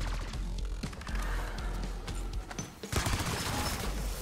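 Dense rapid gunfire in Black Ops 6 Zombies, during the Terminus final boss fight, rattles in continuous bursts with one brief lull before the shooting resumes just as loud.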